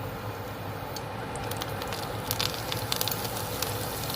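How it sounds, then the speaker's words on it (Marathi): Pav bread rolls heating in a frying pan with oil and butter produce a low steady sizzle, with sharp crackles and pops growing busier toward the end. "आता त्याच फ्राय पॅनमध्ये पाव गरम करून घेऊ इकडे मी तेल आणि बटर घातलेला आहे"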